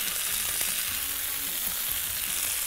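Sliced red onion caramelizes in a pan for chicken, mushroom and cream soup, giving a constant close bright sizzle with faint stirring underneath and no pauses.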